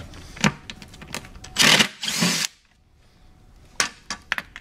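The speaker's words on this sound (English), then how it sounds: "Just makes it a little easier to have an impact driver." An impact driver removes the Phillips head screws from a Chromcraft swivel tilt chair mechanism, with two loud bursts of whirring, hammering drive and sharp clicks and taps before and after. The sound is close.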